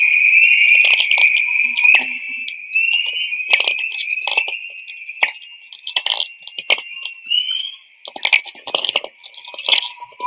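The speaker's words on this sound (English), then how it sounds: "So these are the energetic particles from the sun whistling along the Earth magnetic field lines" Whistler radio signals, made by energetic solar particles moving along Earth's magnetic field lines and converted to sound, give a continuous high whistling tone. Irregular crackles and sharp clicks break through it throughout.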